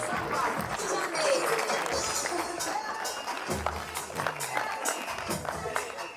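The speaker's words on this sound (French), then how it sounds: "Faites un tonnerre d'applaudissements pour Cheikh Foutsal" Applause for Cheikh Foutsal at a live stand-up comedy show, a broad wash of audience clapping with crowd noise and cheering, moderately loud and steady across the stretch, fading slightly near the end.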